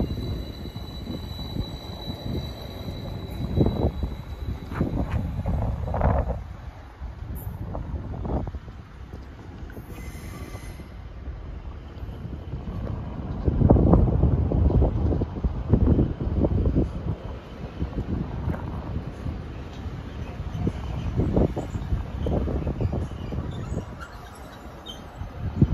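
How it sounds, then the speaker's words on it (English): A Transport for Wales train pulls out of Cardiff Queen Street station toward Cardiff Bay, its low diesel rumble and wheel noise swelling and fading at middle distance amid wind buffeting on the microphone, with no talking. "Departing out now is the 1600 Transport for Wales service, starting here at Cardiff Queen Street, going to Cardiff Bay"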